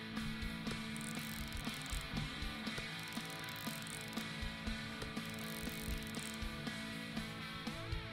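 A rocket's valve is screwed on by hand, giving a faint run of rapid ratcheting clicks, quiet and close, against a low background.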